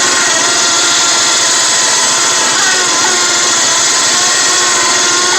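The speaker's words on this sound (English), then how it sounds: "so winch is still pulling strong" A loud, steady mechanical whine and grinding drones continuously without pause as a Harbor Freight Badlands 2500 lb winch strains under load, pulling a lawn tractor.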